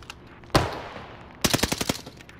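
Gunfire in Call of Duty on Rebirth Island: one loud close shot rings out, then after a pause a rapid burst of about eight shots in quick rhythm, with no talking.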